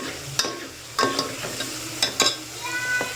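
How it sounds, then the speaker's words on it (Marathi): Spices fry in a pan for Nashik-style misal, giving a soft, steady sizzle broken by several sharp clinks and scrapes of stirring against the metal. "ती टाकली की थोडा वेळ फ्राय होऊ द्यायची"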